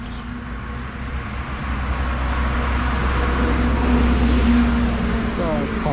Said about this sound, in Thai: อาจจะมีเสียง รถยนต์รบกวนบ้างนะ